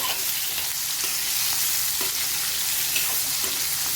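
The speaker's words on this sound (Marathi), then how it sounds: "जिरे भाजता भाजता त्यातच तेल टाकून देऊ आणि भाजून घेऊ" Cumin seeds roasting with oil in a pan, a dense steady sizzle close up with faint intermittent stirring taps, no talking.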